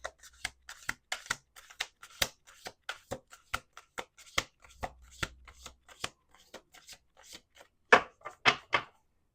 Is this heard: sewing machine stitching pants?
no